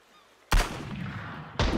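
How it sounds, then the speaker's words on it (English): Two sharp, loud gunshots crack out in the survival video game Sunkenland, the first ringing on with a short tail before the second hits near the end. "I see gunfire."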